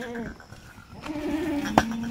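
A Kathiawadi goat bleats briefly at close range amid background farm noise at a goat sale, followed by a short sharp knock.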